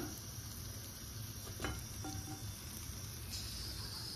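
Dhuska batter frying in hot oil, turned to cook on both sides, gives a faint, steady sizzle with a few soft clicks and stirring touches, and no voices.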